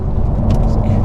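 An Audi R8 accelerates on a wet road, a heavy, steady low-end engine roar with road and rain rumble, heard from inside the car with no break.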